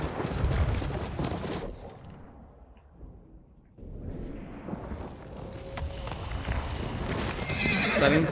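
Rhythmic hoofbeats of a galloping horse in Ghost of Tsushima with a whinny, loud at first, fading briefly, then returning with more clip-clop and ambient game sounds.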